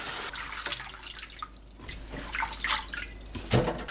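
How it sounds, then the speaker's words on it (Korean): Cabbage being rinsed under running water, a close, irregular splashing and trickling with soft drips and sloshes, moderately quiet and uneven. "양배추를 헹궈주세요."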